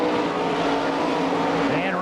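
Sprint cars roar around a dirt track at an All Star Circuit of Champions race in Franklin, Pennsylvania, with a loud continuous engine drone and a pitch sweep as one passes, under an announcer's voice.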